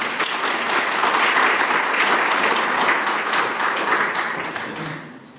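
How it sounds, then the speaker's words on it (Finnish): A seminar audience gives the working group a warm round of applause, dense steady clapping from many hands that fills the room and fades out toward the end. "eiköhän me anneta koko ryhmälle lämmin aplodi"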